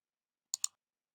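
Two quick, crisp keyboard key presses in SelfCAD 3D modeling software, close and faint, in an otherwise silent moment with no talking.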